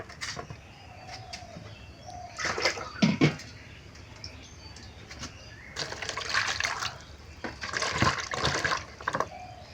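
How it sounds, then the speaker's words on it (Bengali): Dried loitta fish is rinsed with hot water in a few bursts of splashing and sloshing, with birds cooing faintly in a village setting between the washes. "গরম পানি দিয়ে 2-3 বার করে ধুয়ে নিব।"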